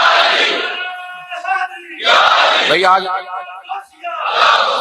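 Large religious gathering for Yaum-e-Badr on 17 Ramzan, with the crowd shouting slogans in loud bursts that rise and fall, answering a preacher's lead, and his voice joining between the chants.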